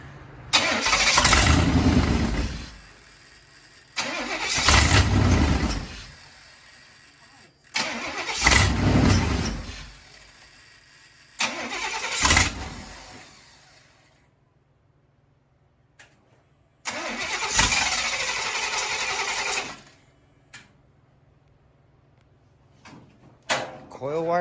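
A 1927 Ford Model T engine cranks in several separate bursts of grinding and brief running, each stopping abruptly, with a quiet pause before another longer attempt, all close by.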